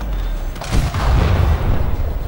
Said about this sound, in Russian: Вот это взрыв! Ни хрена себе они взрываются.